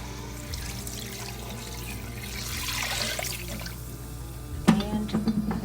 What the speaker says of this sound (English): Now to this, we will add the peppers, as well as our broth.